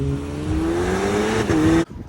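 A Volkswagen Golf 7R in second gear accelerates hard, its engine note climbing steadily and loud for nearly two seconds before cutting off abruptly, leaving faint background noise.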